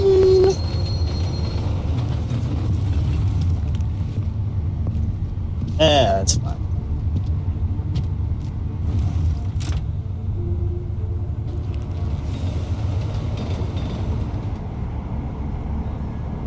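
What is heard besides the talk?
train riding sounds in the video game Deus Ex: Mankind Divided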